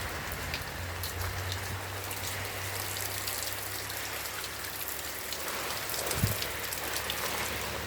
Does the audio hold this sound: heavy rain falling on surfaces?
yes